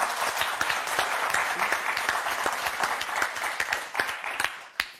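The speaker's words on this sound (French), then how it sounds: "Je crois que ça s'applaudit encore." A TV game show studio audience claps in a sustained round of applause that thins toward the end into a few scattered, distinct claps, moderately loud and without talk.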